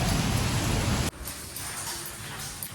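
Rain falls with a dense, loud, steady hiss that cuts off abruptly after about a second, leaving a quieter, softer patter and background ambience.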